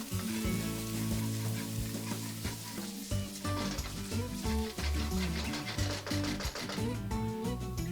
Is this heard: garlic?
yes